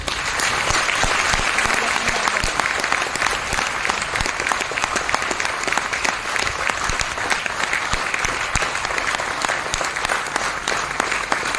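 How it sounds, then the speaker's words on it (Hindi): Sustained audience applause fills a business event hall, dense and steady clapping from a large crowd lasting throughout with no one speaking over it. "तो आप अपने लिए ताली नहीं बजा सकते तो दूसरों के लिए क्या ताली बजाओगे?"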